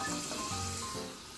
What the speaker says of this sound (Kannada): ಹಾಕ್ಬಿಟ್ಟಿದ್ದನ್ನು ಚೆನ್ನಾಗಿ ಮಿಕ್ಸ್ ಮಾಡಿ ಇದನ್ನು ದಾಲ್ಗೆ ಒಗ್ಗರಣೆ ಕೊಡ್ತಾಯಿದ್ದೀನಿ ನಾನು.